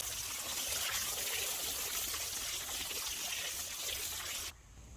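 Water pours steadily onto soil in a raised garden bed, a continuous close hiss and trickle that holds even for several seconds before abruptly stopping near the end, with no voices.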